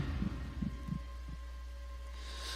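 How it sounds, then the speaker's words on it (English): A heartbeat sound effect from the video game 999: 9 Hours 9 Persons 9 Doors, with a few soft, low thumping pulses over a steady low hum, fading out after about a second. "felt his heartbeat quicken"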